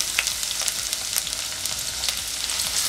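Finely chopped onion and bay leaves frying in hot oil, a steady close sizzle with faint crackles and pops running throughout, no voices.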